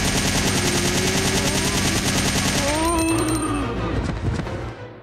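Rapid automatic rifle fire in a Resident Evil 3: Nemesis cutscene, a loud continuous burst of shots that dominates the first three seconds, then gives way to clanking and tonal effects that fade out.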